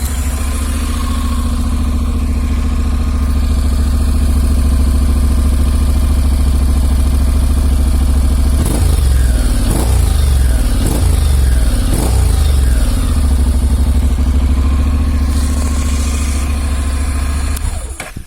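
A 2016 Honda NC 750 X motorcycle engine runs close by at a steady, deep idle, then gives a series of quick throttle blips around the middle before settling back to a smooth idle, with no talking.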